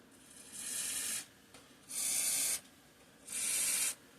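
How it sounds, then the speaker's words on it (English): Three hissing spray bursts of lubricant aimed into the recoil starter of a 3 hp Briggs and Stratton engine, each lasting under a second with short quiet gaps between, close and fairly loud with no talking. "I'm going to add some lubricant here to the recoil, work it in."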